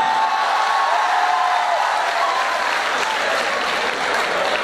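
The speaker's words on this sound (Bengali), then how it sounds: "18তম ব্যাচে মেহেদী স্যারের জন্য একটা জোরে হাততালি হবে।" A dense burst of crowd applause at a university farewell and freshers' reception, loud and sustained throughout, many hands clapping together with no talking over it.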